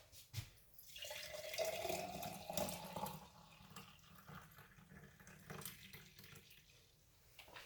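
Celery juice pours steadily for a few seconds with a gurgling, splashing stream, then trickles and sloshes more softly before ending; no one speaks.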